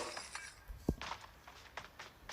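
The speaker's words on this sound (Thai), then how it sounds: "กระจกแตกครับ" A glass window shatters in the PUBG battle-royale game: one brief, faint crash with clinking shards, set against quiet in-game background noise.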